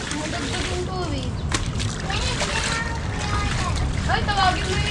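Water is added to a container and sloshes and splashes continuously at close range while people talk over it.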